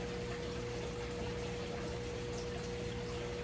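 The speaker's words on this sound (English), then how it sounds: "All right, we got the siphon going." A siphon drains water from a 150-gallon turtle tank as a faint, steady watery hiss and gurgle, continuous and even throughout over a low hum.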